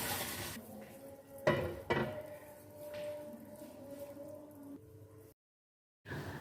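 Mutton karahi gosht with raisins, almonds, coriander and dried red chilli is stirred in a pan: soft, quiet scraping and a couple of sharper clinks of the spoon against the metal, then a brief silence.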